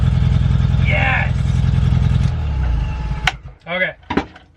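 A Volkswagen MK1 Golf fitted with a 1.8T engine runs with an exhaust leak, a rough, loud chuffing idle that drops and stutters partway through, with brief talk over it near the end.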